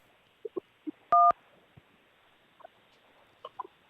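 A phone line picks up an incoming caller on a sports radio show: a loud pair of dialing tones stands out clearly, with scattered faint clicks and small sounds before and after.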